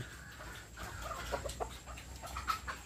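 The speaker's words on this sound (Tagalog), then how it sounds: "Ibigyan ko po muna ng patuka ang aming manok." Chickens cluck softly nearby, scattered short calls over a quiet outdoor background, with no talking.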